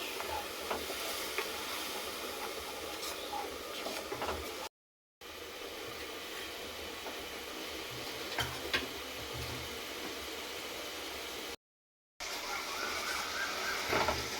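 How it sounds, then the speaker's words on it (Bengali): Spice paste for doi potol sautéing in a pan, a continuous faint hiss and crackle with occasional stirring scrapes, broken twice by brief gaps of silence, no speech. "দিয়ে নিয়ে ভালো করে কষিয়ে নেব।"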